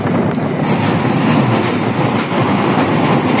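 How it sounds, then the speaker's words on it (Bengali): A passenger train speeds over a bridge through rural Bengal, heard from inside as a loud, continuous rumble with a rhythmic clatter of wheels on the rails. "একটি ব্রিজের উপর দিয়ে আমাদের ট্রেন চলে যাচ্ছে, খুব গতিসম্পন্নভাবে ট্রেনটি দ্রুত চলে যাচ্ছে।"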